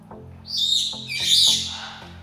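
Pet parrots calling indoors, bright chirps and squawks rising in a burst and fading over a couple of seconds, fairly close with a low hum behind.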